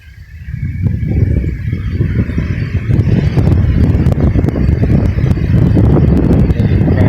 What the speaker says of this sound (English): There's a crack of the wind up in the sky.